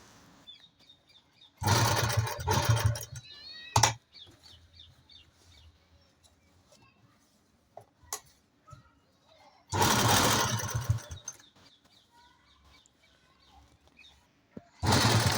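A sewing machine stitches a kurti neckline in two loud whirring runs, one short and one longer, with quiet gaps of fabric handling between them and chickens clucking faintly in the background.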